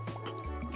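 A short liquid pour with a dripping, filling quality as water goes into a machine in the Soda Story brewing game, brief and fairly soft over a steady tonal hum.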